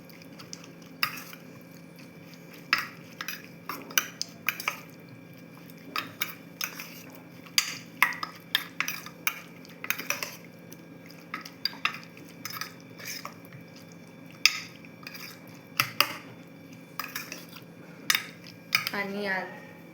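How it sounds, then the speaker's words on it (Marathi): Spoon scraping and clinking against a bowl while spices and biryani masala are mixed into a dish in a home kitchen, a steady series of close, sharp taps and scrapes over a low background hum. "आणि मग हे मिक्स करून घ्यायचं."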